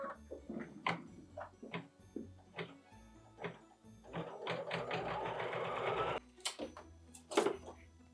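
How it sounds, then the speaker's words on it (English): An embroidery sewing machine stitches a cork leather gable for a Christmas mini general store, its rapid needle rattle coming in short bursts and then one longer steady run, close and clear. "Machine step 10 is stitching the gable."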